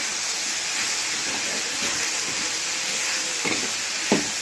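Ginger and coriander sautéing in a pan for chutney, giving a steady close hiss with a couple of soft knocks from a utensil near the end.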